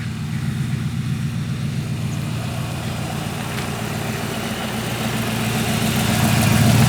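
A 1940 Ford Tudor Sedan Deluxe with a new torque converter idles steadily up close, its low even rumble unbroken before it swells slightly louder near the end, with no talking.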